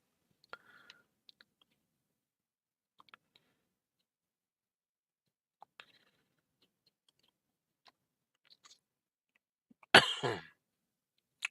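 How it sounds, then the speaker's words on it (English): One man's cough bursts out loud and close near the end, after long near-silence broken only by scattered small clicks and taps. "If you cough and go cover your mouth when you're alone in a room"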